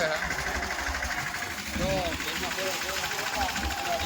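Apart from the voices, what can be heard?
tractor engine running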